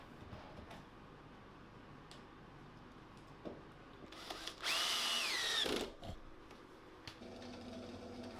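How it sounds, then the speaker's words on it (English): A power drill drives screws into the wooden end pieces of a display shelf: one loud, steady whirring run of about a second that rises and falls in pitch, between quieter workshop noises and faint knocks. "I can then get some glue applied to the ends and those end pieces put on with some screws"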